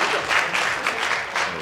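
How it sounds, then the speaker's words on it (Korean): Spectators at the 2019 eBest Continental Cup billiards match applaud right after a score, with a brief burst of clapping that pulses in a few quick waves, close and moderately loud. "트란 선수는 트란 박수를 치고 있어요"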